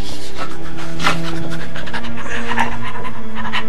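A man imitates a dog panting, producing rapid, breathy, rhythmic huffs close to the microphone that go on steadily and loudly without a break.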